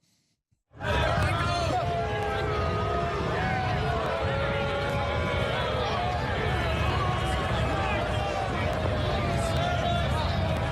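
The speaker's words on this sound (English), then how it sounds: "A mixed group of 100 people booing" Around a hundred people boo Trump's motorcade, a steady, dense roar of mixed voices that starts abruptly and holds at the same loudness throughout.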